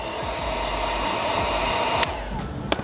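A heat gun blows hot air onto chrome delete vinyl film on the front grille of a Lexus UX, a steady close whooshing roar with a couple of faint clicks near the end.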